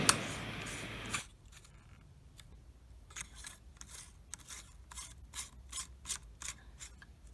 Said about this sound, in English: Now I'm screwing on the top part of the socket shell.